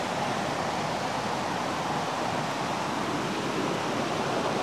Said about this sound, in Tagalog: Ayan po ang ilog. Napakaganda.